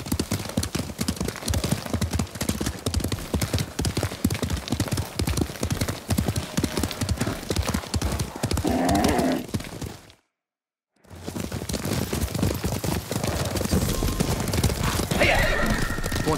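A horse gallops in Ghost of Tsushima, rapid loud hoofbeats drumming steadily, with whinnies rising over them, a brief drop to silence midway, then galloping resumes with voices calling out.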